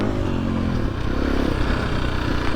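A motorcycle engine roars loud and close on a rocky green lane during a small wheelie, a dense continuous rev with clattering and scraping from the rough track, no talking.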